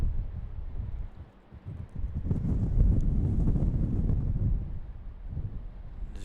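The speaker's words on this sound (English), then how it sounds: "As you guys can hear, it is windy." Low, rumbling wind buffeting a microphone at Raleigh-Durham International Airport, swelling louder midway then easing, with no one speaking.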